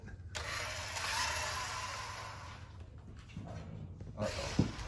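A small remote-control Ducati toy motorcycle whirs steadily after being switched on, a continuous mechanical buzz lasting most of the clip, then fading briefly before resuming with a sharp click near the end.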